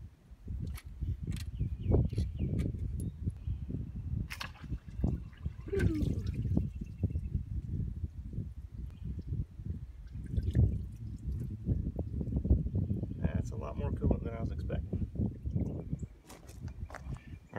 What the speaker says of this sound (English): There's going to be coolant coming out of here, so I'll try to catch what I can.